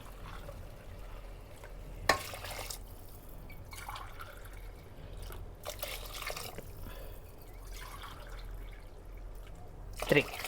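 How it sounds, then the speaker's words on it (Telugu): Heated water poured into rice in a cooking pot for vegetable pulao: a few short splashing, trickling bursts over a quiet, low kitchen background. "దీంతోనే వాటర్ వేస్తున్నాను ఆల్రెడీ వాటర్ వేడి చేసి పెట్టుకున్నాను"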